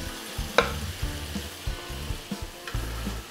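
Veal escalopes fry in a pan, giving a continuous sizzle broken by sharp crackles and scraping stirs, close and moderately loud with no voices.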